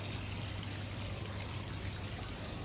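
Steady, gentle pouring and trickling of a small waterfall spilling into a suite's pool at Sandals Grand St. Lucia, continuous and fairly faint.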